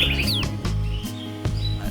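Green leafbird (cucak hijau) calling in a set of quick chirps and a sweeping whistle, close and fairly loud over a steady low hum from the surroundings.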